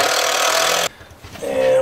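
A cordless power tool drives large screws into wood in a skoolie dinette, a loud close whirring burst that stops abruptly, then a short lower grind starts again.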